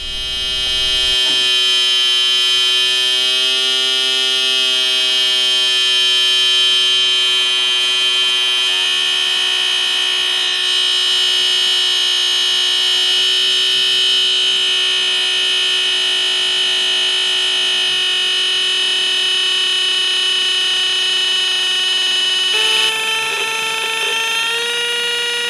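Two identical oscillators wired together on a breadboard produce an FM synthesis tone, a loud sustained buzzy drone rich in harmonics whose pitch and timbre slowly wobble and shift, ending with an abrupt change in tone.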